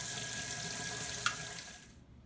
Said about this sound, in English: You need to cool off the pressure cooker first under cold water.